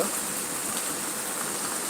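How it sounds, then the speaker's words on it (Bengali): Heavy rain in a Baisakh storm with strong wind, a dense, even hiss of falling water that holds steady and close, with no voices. "এখন খুব জোরে বাতাস হচ্ছে এখন বৃষ্টি হচ্ছে"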